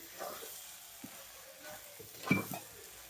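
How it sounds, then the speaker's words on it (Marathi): A spoon stirs ground green peas in a pan for matar keema, giving a soft, faint sizzle with a few light scraping strokes and one brief clink of utensil against the pan near the end. "हा वाटाणा मी बारीक करून घेतला होता तो ह्यामध्ये घातलेला आहे. आता ह्याला मिक्स करून घ्यायचं आहे व्यवस्थित."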